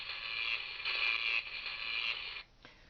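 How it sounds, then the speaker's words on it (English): A welding tool accessory being inserted into the torso of an electronic talking C-3PO toy gives a steady mechanical whirring and creaking buzz that holds for over two seconds, then cuts off abruptly. "you take this welding tool that he comes with and you insert it"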